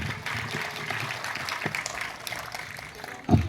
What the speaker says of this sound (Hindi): जोरदार तालियां इस शानदार भाषण के लिए